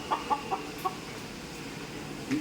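Chickens clucking near a village temple in Tamil Nadu, a few faint short clucks in quick succession over steady background noise.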